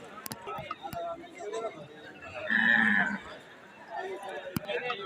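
Cattle mooing at a crowded Qurbani livestock market, where a red cow is for sale; one loud low moo rises mid-clip over steady crowd chatter and people talking nearby.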